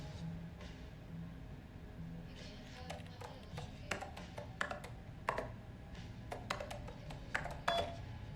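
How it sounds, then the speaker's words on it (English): Mechanical keyboard typing in the game Alan Wake 2: irregular bursts of crisp clicking keystrokes, sparse at first then quicker clusters, over a low ambient hum. "Very nice mechanical keyboard sounds"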